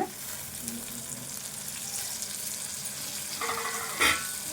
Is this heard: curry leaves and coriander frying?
yes